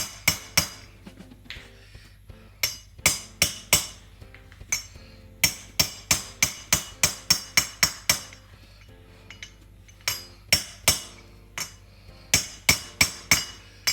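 Repeated sharp metallic hammer blows drive a swivel hub bearing into the hub of a Land Rover 110 Defender, using an old bearing as a drift; strikes come in quick bursts of several hits with short pauses, close and loud, no talking.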